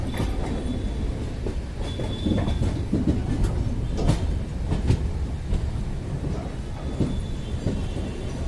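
Poorva Express sleeper train running between Howrah and Dhanbad, heard from aboard as a continuous heavy rumble with rhythmic clickety-clack wheel knocks and occasional sharper metallic bangs.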